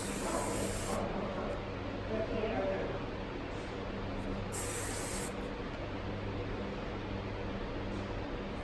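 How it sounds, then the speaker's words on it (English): Hairspray mists onto styled hair in two short, close hissing bursts from an aerosol can, separated by a pause, over a quiet room background. "Use a little bit of hairspray."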